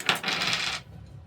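Pens tumble out of a cup onto a desk in one quick, bright clatter of hard objects that lasts under a second and then stops.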